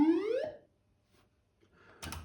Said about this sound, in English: they go halfway in and cause a coin alarm